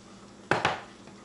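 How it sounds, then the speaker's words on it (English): Two quick knocks of diced onions dropped off a utensil into a bowl of homemade guacamole, close and crisp, with a faint tap afterward in a quiet kitchen. "I've already got some onions diced, so I'm going to add them"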